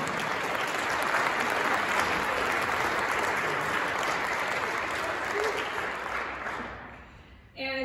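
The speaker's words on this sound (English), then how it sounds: "So can we give them a round of applause?" A large audience at a cultural industry legislative dinner applauds for several seconds, dense steady clapping that slowly thins and fades before a sudden louder sound at the very end.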